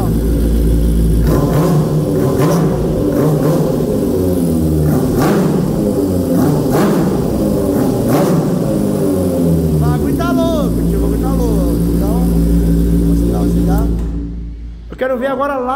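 A Honda Fan 125 motorcycle fitted with a Hornet engine revs loudly and steadily up close on a city street, its engine note rising and falling through repeated throttle blips, with people talking over it before it cuts off near the end.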